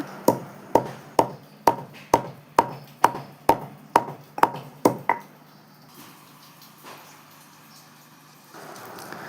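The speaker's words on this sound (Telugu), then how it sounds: "సో ఒక 5, 6 లేదా 7 యాలకులు తీసుకొని వాటిని కూడా మనం మెత్తగా దంచుకోవాలి" Five to seven cardamom pods pounded into fine powder for junnu: about eleven sharp, evenly spaced thuds over five seconds, close and loud, then quiet with faint rustling.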